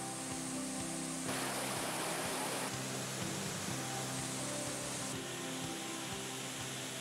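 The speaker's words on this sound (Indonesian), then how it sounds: "sekelompok pecinta alam melakukan aksi ekstrim menuruni tebing air terjun dengan arus deras" Rushing waterfall with a strong current at a nature tourism spot, a steady broadband roar of falling water filling the whole clip without pause.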